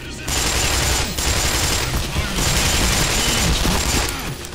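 Gunfire in the video game Black Mesa, a Half-Life remake, sounds as loud, sustained bursts of automatic fire with a brief gap near the start and another around the one-second mark.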